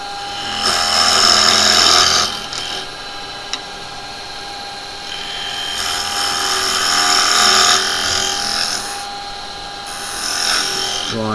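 Square carbide tool cutting a spinning wood blank on a woodturning lathe, a steady scraping, hissing cut in two long passes with a brief pause between, close and fairly loud, with some speech.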